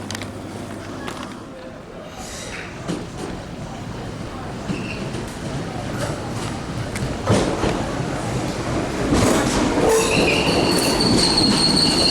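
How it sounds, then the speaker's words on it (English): A commuter train bound for Bray, Ireland, rumbles along steadily with wheel squeal and clatter, growing louder toward the end, with a faint voice in the background. "This train is for Bray."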